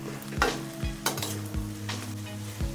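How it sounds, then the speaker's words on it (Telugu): Green chillies and capsicum sizzle in a pan for chicken fried rice, with steady frying hiss and several distinct scraping stirs of a spatula against the pan, close and alone without speech. "క్యాప్సికమ్ తర్వాత పచ్చిమిర్చి మొత్తాన్ని వేసుకొని మంచిగా ఫ్రై చేసుకోవాలి"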